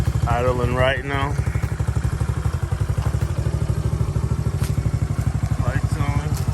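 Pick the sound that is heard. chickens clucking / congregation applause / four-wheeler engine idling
four-wheeler engine idling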